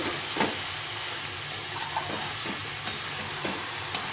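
Cabbage curry being stirred in a pan, giving a soft continuous sizzle with a few scattered, faint clicks of the spoon against the pan.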